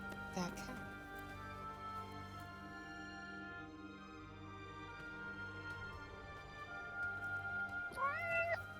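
A cat in the video game Forspoken meows briefly under steady game music, followed by a higher rising mew near the end; a voice talks over it.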